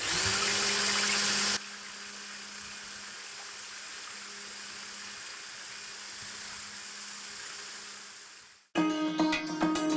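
Electric kitchen mixer whipping a two-ingredient ice cream mixture, a close steady motor whine that runs on at low speed and then shifts to a higher speed before cutting off, followed by a short burst of clattering.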